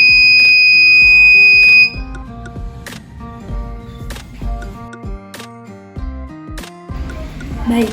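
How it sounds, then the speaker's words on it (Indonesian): Piezo buzzer on a homemade earthquake warning device, triggered by vibration; a steady high-pitched electronic tone sounds alone for about two seconds and then cuts off, followed by other tonal beeps. "Saat ada getaran, buzzer akan berbunyi."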